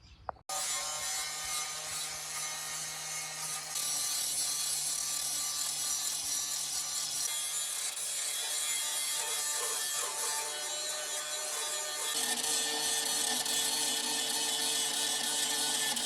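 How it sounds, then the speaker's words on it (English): A power grinder works on metal car body panels during widebody bodywork on a turbo Miata, giving a continuous loud whine and rasp that shifts in pitch and intensity as the disc meets the metal. "So I'm just going to be grinding away at that, trying to do, grinding over and make flat the stuff that I've already cut out"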